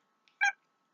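A pet cat gives a single short meow nearby, preceded by a tiny faint chirp, in an otherwise quiet room.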